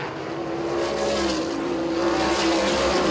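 Silver Crown race cars at a 2023 USAC Silver Crown National Championship race run side by side, engines roaring loud and steady with a rising, sustained pitch throughout.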